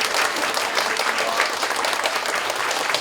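Dense, steady applause from a lecture audience thanking a speaker, loud and even throughout without a break.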